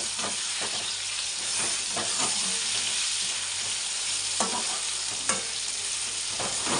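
Potatoes and tomatoes frying together in a pan, a dense steady hiss of sizzling oil up close, with occasional stirring scrapes and a couple of sharper utensil clicks.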